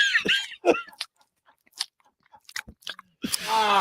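Someone chewing a small piece of gum up close, wet smacking and crunchy bites in short irregular bursts, with a few breaths and brief vocal sounds between.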